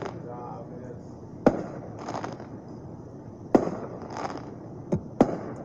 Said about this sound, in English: And then now there's fireworks.